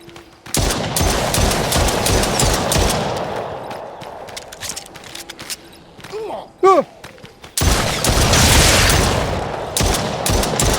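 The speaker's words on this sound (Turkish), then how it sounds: "Mayına bastı lan birisi." A landmine detonates in The Brookhaven VR zombie game, a sudden loud blast amid rapid gunfire bursts, with heavy booming and dense crackling shots dominating the close, noisy scene.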